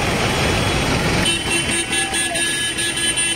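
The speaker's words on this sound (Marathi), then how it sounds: "खतरनाक ट्रॉफिक लागले आज" Heavy road traffic in a jam, with a steady roar of engines and a long, loud car horn blaring, then further horn tones sounding over the busy street.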